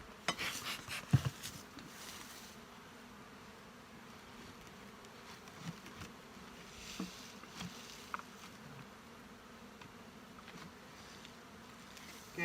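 Honey bees buzz steadily in an open hive during a spring brood nest inspection, a dense low hum filling the whole stretch, with scattered soft knocks and rustles of frames being handled close by.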